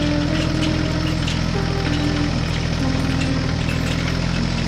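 A green tractor's engine drones steadily while subsoiling a field, a continuous mid-pitched rumble holding at an even loudness throughout with no voices.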